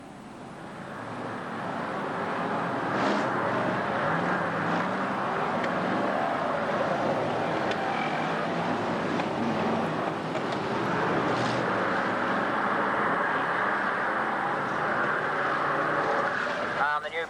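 F1 stock cars race around a tarmac oval at a 1991 British Championship meeting, a steady, loud wash of engine roar that holds throughout, with a commentator talking over it.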